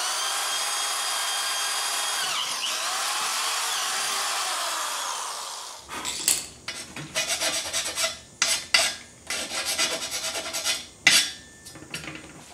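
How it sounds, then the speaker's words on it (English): A drill boring a hole through a tree stand platform, first a steady whining bite into the metal, then a run of uneven, stuttering grinding and rasping bursts with short gaps, close by. "Next, I'm going to drill a hole on the other side right here."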